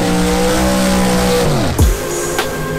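A dragster race car at the drag strip holds a loud, steady engine drone, then the pitch sweeps sharply down as it passes close by, followed by a brief thump and quieter engine noise.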